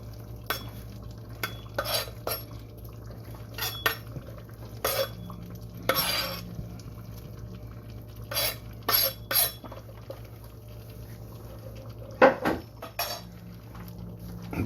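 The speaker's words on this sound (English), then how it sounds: "This is where I stir it up." Vegetables (carrots, green peppers and onion) being stirred into a pot of Jamaican-style curry chicken, with repeated scraping and clinking of a utensil against the pot over a low steady simmer.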